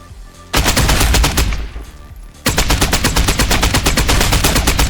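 An automatic rifle fitted with a compensator fires in the Contractors Showdown video game, with a short rapid burst and then a longer sustained stream of loud, close, evenly spaced shots.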